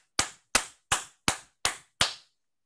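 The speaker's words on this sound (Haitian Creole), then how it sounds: "Applaudis." Six sharp, evenly spaced hand claps ring out about a third of a second apart. Each is loud and distinct, with a short decay and silence after the last one.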